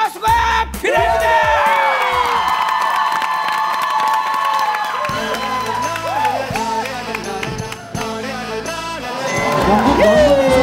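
A large TV studio audience cheers and shouts loudly, with clapping and whoops rising again toward the end.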